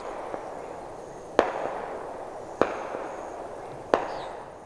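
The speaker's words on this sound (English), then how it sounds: "Fireworks flying through the sky." Fireworks go off in the sky over the Pine Barrens, three sharp distant bangs spaced about a second apart, each trailing a brief crackle, above a low steady outdoor hiss, with no voices.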